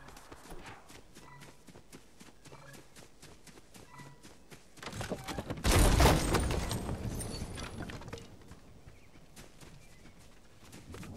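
Gunfire aimed at the player in a shooter game against bots: a loud, dense burst of shots in the middle, tailing off over a low rumble, with quieter clattering game sounds before and after.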